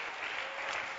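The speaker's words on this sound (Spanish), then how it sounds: "De ese aplauso a Jesús esta noche." Congregation applauding during an evening church service, dense, continuous clapping filling the room for a brief moment.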